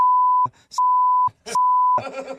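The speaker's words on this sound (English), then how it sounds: "You didn't understand any of that because that was all beeped." Three loud, steady censor beeps are heard close up, each lasting about half a second, with short clipped bits of speech between them and talking that resumes after the last one.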